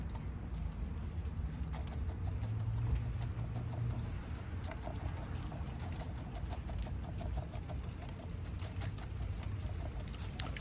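Rain pattering steadily onto an outdoor garden area where trees are being repotted, a dense, continuous patter with soft drops and no voices.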